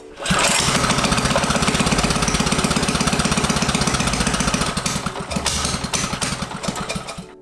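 A small engine on a homemade tracked pit trike fires up on choke and runs with a loud, rapid, even putter, then wavers and stumbles unevenly near the end.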